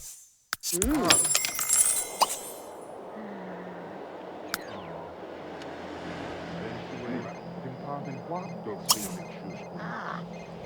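A telephone rings in The Sims 3, a bright electronic ring near the start layered over steady game background sound, with someone speaking German over it and occasional short game chimes.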